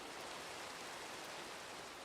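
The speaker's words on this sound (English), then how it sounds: "I'll just sleep to get rid of the rain." Steady rain falling in Minecraft, a soft, even broadband hiss with no breaks and no voices over it, fairly quiet throughout.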